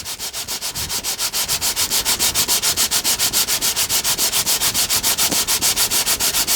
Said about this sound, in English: I've just got 80 grit paper on it